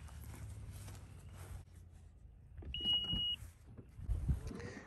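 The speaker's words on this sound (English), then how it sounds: "Here comes the loud beep." A 2020 Honda Passport Elite gives one sharp, steady electronic beep lasting under a second, clear above quiet cabin and road noise.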